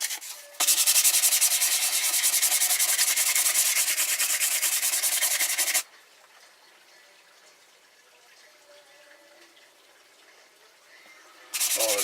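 Polishing Suzuki Bandit 1200 motorcycle rear sets with a power tool: a loud, steady, hissing abrasive roar that drops to a quieter rubbing whir for several seconds, then surges loud again at the end.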